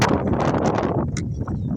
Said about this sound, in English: So much wind, it's ridiculous